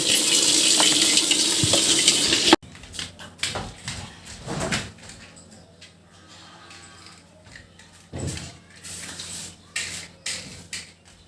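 Water gushes loudly into a basin for washing hands and feet, then stops abruptly and gives way to quieter splashes and the knocks of hands in the water.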